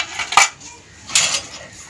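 Dishes, pots and utensils being washed by hand, with two bright clattering clinks of metal cutlery and cookware about a second apart over a faint background.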